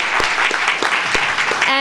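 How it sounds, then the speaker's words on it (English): Audience applause for Peter Marks at a Hill Center Stage conversation event, a steady dense wash of clapping filling the room, close and fairly loud, with no talk over it. "Round of applause for Peter Marks."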